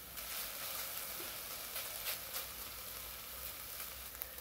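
Garlic and onion frying in a pan, a soft, steady sizzle that crackles quietly and continuously with no voices over it.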